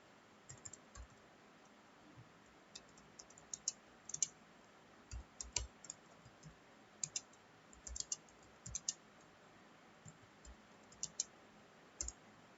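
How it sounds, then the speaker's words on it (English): Fingers type a program into Notepad on a computer keyboard, a steady run of quiet, close key clicks in irregular bursts with short pauses between them. No voices are heard. "now we'll type the program"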